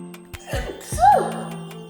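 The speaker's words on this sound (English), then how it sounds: "Oh no. I'm sneezing." A single person's sneeze bursts out once near the middle, close and fairly loud, with a faint breathy intake and rustle around it and a low steady background hum.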